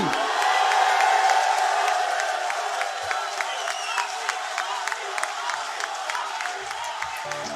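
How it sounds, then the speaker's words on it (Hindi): Audience at a mushaira poetry recital bursts into dense applause and cheering, loudest at the start and then settling into steady clapping with scattered shouts. "भरपूर तालियों में, भरपूर नारों में इस्तकबाल कीजिएगा"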